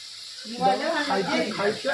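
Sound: potatoes frying for french fries

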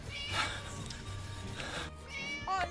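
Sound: cat meowing in video game Scary Teacher 3D

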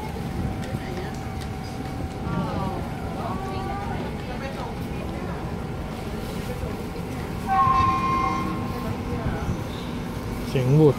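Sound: train horn at Rangsit railway station

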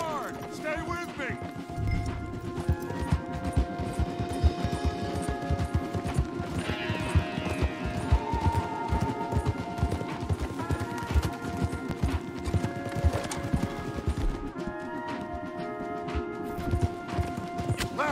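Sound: horses galloping in the video game Red Dead Redemption 2

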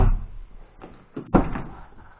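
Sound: Audi A2 car door opening

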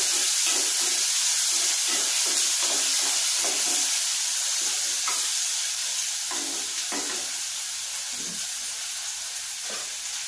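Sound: grated coconut frying in a pan

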